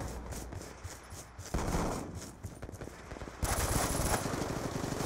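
Rapid gunfire in the video game Black Ops 2, dense rattling bursts that keep going and grow louder partway through, with a sharp burst of louder shots in the final seconds.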